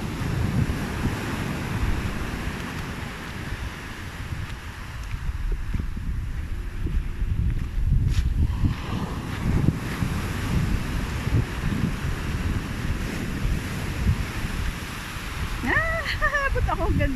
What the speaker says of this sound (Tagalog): Parang umaambon sa lakas ng alon eh